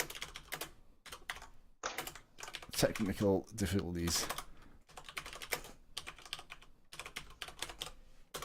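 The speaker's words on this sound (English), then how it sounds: "I'm just typing." Quick bursts of clicking keystrokes on a computer keyboard during a golf game livestream, steady and fairly close, broken by short pauses while someone speaks briefly over them.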